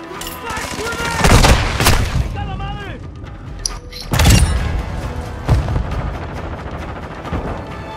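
Explosions and gunfire in Call of Duty: Modern Warfare II multiplayer, a Semtex grenade blast among them, with two loud booming bursts and scattered shots under excited voices.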